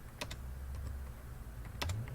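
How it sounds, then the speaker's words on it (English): A few quick keystrokes on a computer keyboard as a city name is entered, two short bursts of clicks near the start and another pair near the end over a steady low hum. "we should type a name, let it be Los Angeles"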